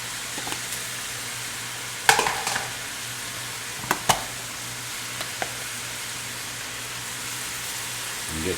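Ground meat, onions and seasoning fry in a pan for an egg roll in a bowl, giving a steady close sizzle with a few sharp clicks and scrapes of a utensil.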